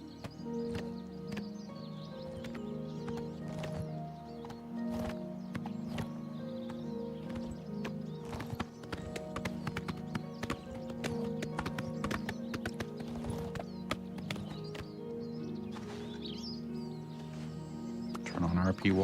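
A horse's hooves clip-clop steadily uphill in the game Oblivion Remastered, the quick rhythmic steps sitting over constant background music, with occasional bird chirps and a voice talking over the scene.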